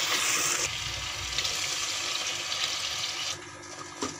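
Water from a glass pours into a pan of aloo baingan curry with green chilies, a steady close splashing gush that runs for a few seconds, then eases off and stops.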